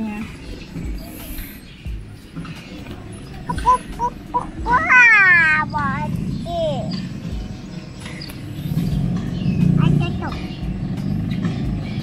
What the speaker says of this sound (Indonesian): Ini warnanya kucingnya apa, Bas